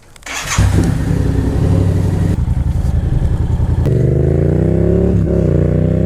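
A Yamaha FZ07 motorcycle setting off on the road: a clattery engine catch, then a steady throbbing idle that rises into a revving, climbing pull, close and loud.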